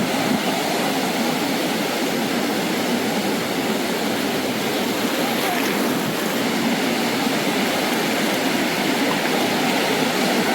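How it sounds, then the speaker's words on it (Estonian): Big, rough sea waves crash steadily onto a Thai beach on Koh Phangan, a loud, continuous roar of breaking surf that fills the whole stretch without a pause. "Juba on suured lained."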